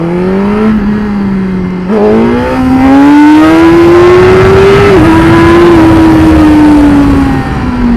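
A motorcycle engine revs hard and steadily during clutch-up wheelies, its pitch climbing and holding high toward 9,000–10,000 RPM with brief dips at shifts, loud and close throughout with no talking.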